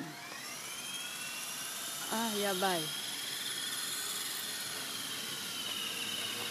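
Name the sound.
helicopter flying away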